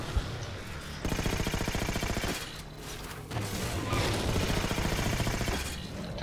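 Incineration cannon fire in the Halo 4 video game, heard as sustained bursts of rapid gunfire-like blasts that fill most of the stretch, with short pauses between volleys.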